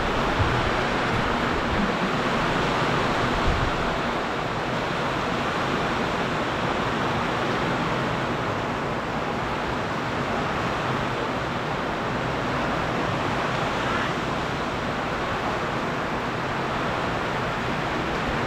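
Steady, dense roar of typhoon wind and heavy rain, a broad rushing wash of noise that holds constant throughout without any voices.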